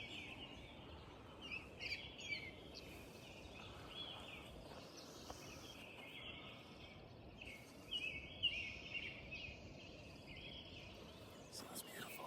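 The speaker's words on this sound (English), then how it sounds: "Listen to those birds." Several birds chirp and sing faintly in the distance around 5:30 in the morning on the coast, over a soft, steady outdoor hiss, with scattered calls rising now and then.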